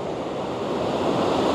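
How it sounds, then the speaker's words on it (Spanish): Ocean waves at El Majahual beach in El Salvador roar continuously, a loud broad wash of surf with wind buffeting, no gaps or talk. "viene una ola más grande ahorita"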